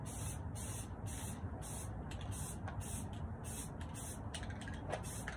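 Spray paint can spritzing even coats onto a 3D printed Batman cowl in short repeated bursts, about ten hissing strokes with brief gaps, steady and fairly close over a low background rumble.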